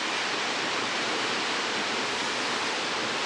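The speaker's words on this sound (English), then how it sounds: "And then you have this other little waterfalls and stuff." Small waterfalls at Shimoda, Japan give a steady, dense rushing roar of falling water, continuous and loud with no other sounds.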